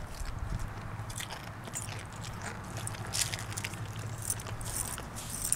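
A dog crunches and chews an egg outdoors on a sidewalk, producing faint, repeated crisp bites and wet chewing clicks over low background noise.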